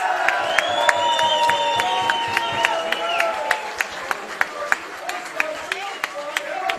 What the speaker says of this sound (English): Generous, warm round of applause for their match winner today